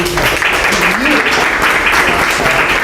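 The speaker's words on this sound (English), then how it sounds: "I'm going to force you to give them a round of applause" A crowd at a university event gives a loud, sustained round of applause, dense and even, with a voice speaking over it.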